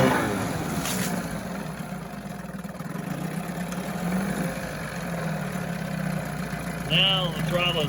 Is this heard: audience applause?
no